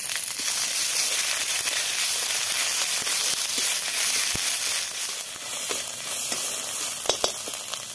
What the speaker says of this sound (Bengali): এবার তেলে তেজপাতা দিয়ে দিলাম, সর্ষে রাঁধুনি আর মেথি দিয়ে দিলাম, আর আদা বাটা দিয়ে দিলাম।